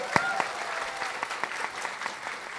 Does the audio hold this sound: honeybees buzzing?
no